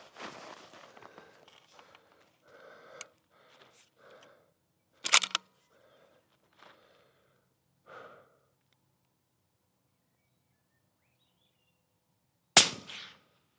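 Rifle shots fired from a rest with a rear bag: two sharp, loud cracks several seconds apart amid quieter shuffling and breathing sounds.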